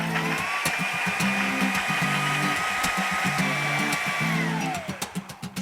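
Electric blender grinding garlic, chilies, shallots, turmeric, palm sugar and water into a paste, a loud steady whirring drone that winds down near the end, followed by a few knocks.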